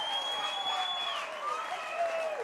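A baseball crowd at a Minnesota state tournament game applauds steadily after a bases-loaded walk, a sustained wash of clapping with scattered shouts throughout.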